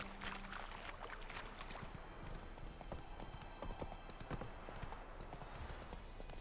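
Hoofbeats of Roach, a horse in The Witcher game, clip-clopping at a steady gallop-like rhythm throughout, close and continuous, with faint outdoor ambience beneath.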